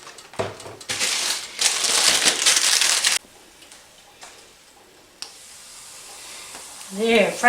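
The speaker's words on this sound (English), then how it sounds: "I'm gonna fry some flour tortillas." Flour tortillas fry in hot oil for chips, loud bursts of bubbling sizzle near the mic in two stretches, then quieter frying, with a brief voice near the end.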